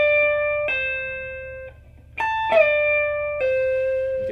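Electric guitar lick from a song, picked high note with a quick reverse slide down and a pull-off: a few clean sustained notes with short gliding pitch drops, a brief gap in the middle, played alone.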